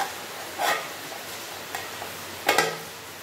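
A semolina pulao mixture being stirred in a pan, a few soft scrapes and light clinks of a spoon over a faint low sizzle, close and sparse.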